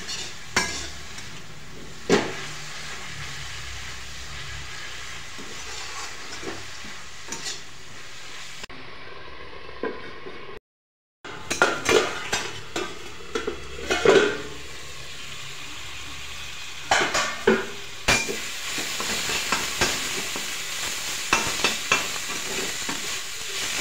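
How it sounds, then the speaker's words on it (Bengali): Kalai shak greens with salt and turmeric being stirred in a pan, a low steady sizzle with scattered clinks and scrapes of a utensil against metal, close but subdued, broken by a brief silent gap midway. "এখন একটু নাড়াচাড়া করে আমি এটা ঢেকে দেবো।"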